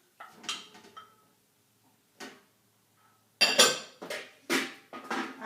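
Metal pots and utensils clink and knock in a kitchen as meat goes into a stew pot, a few sparse taps followed by a cluster of sharper, louder clatters close by.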